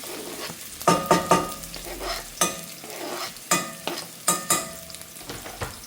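Finely chopped ginger and garlic in hot oil, stirred in a quick run of sharp scraping strokes over a light sizzle, close and fairly loud, with no speech.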